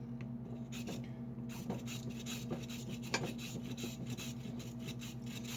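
A carrot is turned steadily against a hand peeler, giving a continuous close scraping rasp with small repeated strokes and faint kitchen hum underneath, no talking.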